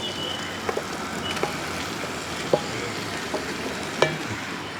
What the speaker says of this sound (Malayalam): ഇനി നമുക്ക് ഈ പുരട്ടി വെച്ചിരിക്കുന്ന ചിക്കൻ ഈ ഗ്രേവിക്കകത്തോട്ട് ഇട്ട് കൊടുക്കാം